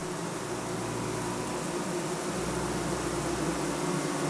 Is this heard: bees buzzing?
yes